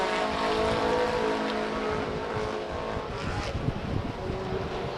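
Race trucks roar around the Stockton 99 Speedway oval, a loud, steady engine drone with harmonic whine that swells slightly as they pass, no talk heard.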